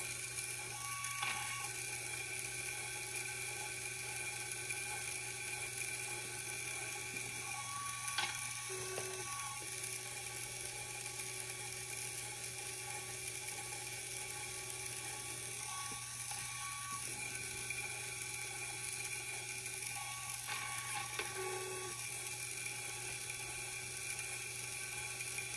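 A Lego gearbox turned by a motor and controlled by a Micro:bit, a steady close mechanical whir with rattling gear clicks and ratcheting, shifting briefly every several seconds as gears change.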